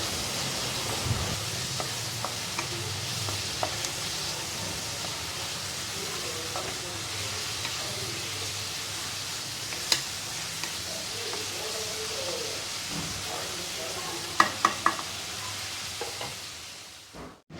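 Sliced onion with turmeric powder sautéing in a pan, a steady soft sizzle with occasional stirring scrapes and a few sharper clicks of a utensil against the pan near the end.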